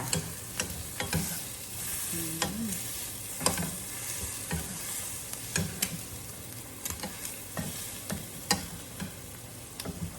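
Vegetables, wild garlic flowers and leaves with choy sum, stir-fried in oyster sauce, sizzling steadily with repeated clacks and scrapes of a spatula against the pan, close and alone with no talk.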